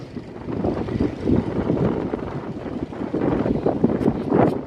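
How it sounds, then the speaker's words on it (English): Gusty wind buffets the microphone in low, rumbling waves that swell and ease, with no voices. "it is kind of windy down here anyway"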